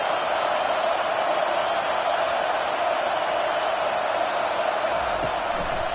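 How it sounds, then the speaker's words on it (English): Stadium crowd at a football game roaring to back up the defense, a loud, continuous, dense wall of voices and cheering that stays sustained from start to finish. "Listen to this crowd just shaking the girders of this place trying to help their defense."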